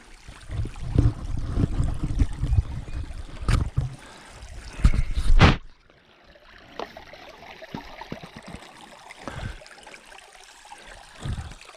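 Water sloshes and splashes with heavy, irregular steps through a shallow creek on the Pinhoti Trail, loud at first, then quieter trickling and occasional splashes.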